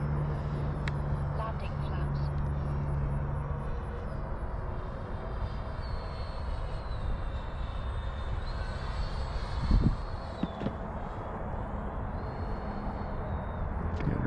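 A Freewing L-39 80mm RC jet plane flies overhead, its steady ducted-fan whine holding at a constant level throughout with a small bump near the end as the throttle is eased back.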